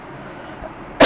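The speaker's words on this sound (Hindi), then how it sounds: "थोड़ा सर्दी जुकाम है इसलिए खांसी भी आ रही है।" A single sharp cough from a man with a cold, bursting out loud and close at the very end after a stretch of quiet room noise.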